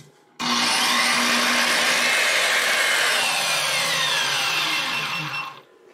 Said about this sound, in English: And now with my big Makita circular saw